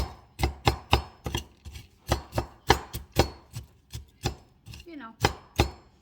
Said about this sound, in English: Just gonna chop it up.